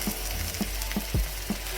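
Chicken curry pieces dropped into hot frying masala for chicken vindaloo give a steady close sizzle, with a few soft rhythmic stirring clicks and a brief thud partway through.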